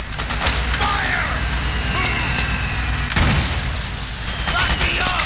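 A power station being blown up in Metal Gear Solid 4, with loud booms, a sharp crack and crackling gunfire running continuously under shouted voices.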